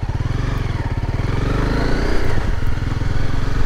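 A motorcycle ridden on a forest road in the USA thrums loudly and close, with a continuous throbbing engine note that holds steady and shifts slightly as it rides on.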